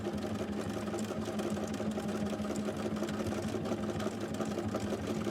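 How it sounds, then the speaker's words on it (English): A sewing machine stitches around a circular holiday ornament with an open presser foot, a rapid, steady mechanical whir and patter that runs without pause, close up and fairly quiet. "I was really pleased at how this machine stitched"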